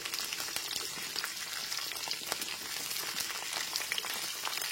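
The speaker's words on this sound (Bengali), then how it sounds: "ফুলকপির টুকরোগুলো দেওয়ার পর একটু নাড়াচাড়া করে নিলাম" Cauliflower pieces stirred in a frying pan give a steady, dense sizzle with faint scraping of the spoon, continuous and close throughout with no voices.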